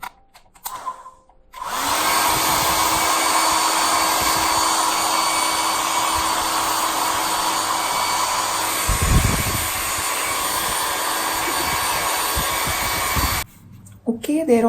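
A hair dryer blows steadily on painted dots for a peacock fridge magnet, switching on after a brief pause and running as a loud, continuous whooshing drone before cutting off near the end.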